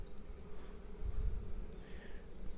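Honeybees buzz at an apiary hive in early April as a soft, continuous hum with a few individual bees droning closer, fairly quiet and steady throughout.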